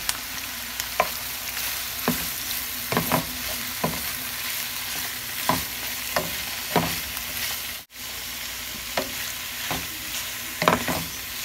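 Meat browns in a frying pan during home Mixtec-style cooking. A steady broadband sizzle runs throughout, broken by repeated sharp scrapes and stirring clacks from a utensil at close range, with one brief dropout near the end.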